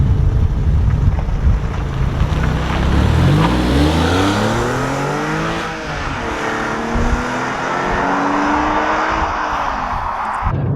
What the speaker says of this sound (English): So then, out on the road in the Porsche 911.